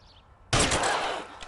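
A single sharp gunshot from the 1940s Los Angeles detective video game LA Noire rings out after a quiet moment, loud and close, its blast trailing off over about a second.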